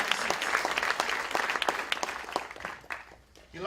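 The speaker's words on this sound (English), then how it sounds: "Let's have a round of applause for the 5 outstanding teams." An evening audience applauds five student teams at an opening event, a loud burst of clapping that holds, thins out near the end and is cut off as a voice begins.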